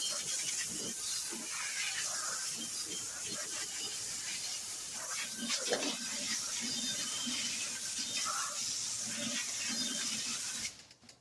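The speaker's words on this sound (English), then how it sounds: "Once all my water runs clear and not soapy" Steady hissing spray of running water from a hose rinses soap off the wheel rims of a 2006 Toyota Corolla, continuous and fairly close for the whole stretch, with a brief louder burst at the very end.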